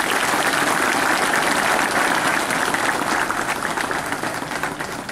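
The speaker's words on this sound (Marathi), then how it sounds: "सर्वांनी टाळ्या वाजवून त्याचं स्वागत करावे." A crowd claps steadily to welcome a guest at the Aurangabad City Police Yoga Day event on 21 June 2016, giving dense, even applause that fades slightly toward the end.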